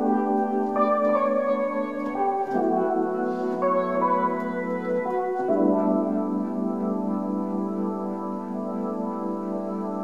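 Layered synth parts imitating a Fender Rhodes electric piano run through a Princeton amp tremolo, playing sustained chords with gentle pulsing tremolo, steady and full, with no voices.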